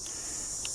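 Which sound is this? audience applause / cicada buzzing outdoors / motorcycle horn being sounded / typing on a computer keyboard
cicada buzzing outdoors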